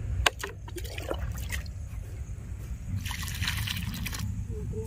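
Water poured by hand onto freshly planted tomato seedlings in a field, giving a steady close trickle and slosh with a few sharper splashes throughout.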